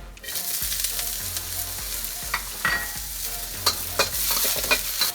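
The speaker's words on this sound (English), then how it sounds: "next we're going to do the veggies" Peas and carrots for egg fried rice sizzling and being stirred in a hot pan, with steady frying hiss and repeated scraping, clattering strokes of a utensil, close and lively.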